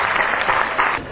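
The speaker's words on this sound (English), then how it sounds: "And all of them deserve a huge round of applause" Audience applause at an Amity Business School alumni reunion, a dense steady wash of many hands clapping together, loud and close, with no pause through the short burst.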